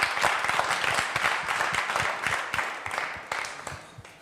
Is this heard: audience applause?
yes